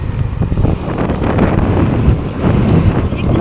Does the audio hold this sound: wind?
yes